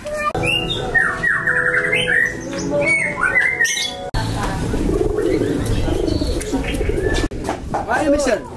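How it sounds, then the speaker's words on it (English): Pigeons coo and squawk at a waterfront in Surabaya, Indonesia, mixed into a busy, noisy outdoor scene with voices and other background sound throughout. "Oh, the birds?"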